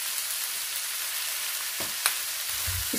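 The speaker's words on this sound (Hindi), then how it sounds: "इसको भी हम हल्के से सौते कर लेंगे साथ में" Flour (maida) sautéing in a pan with vegetables as the base for a white sauce, giving a steady, close hiss of frying with a few brief louder scrapes and clicks near the end.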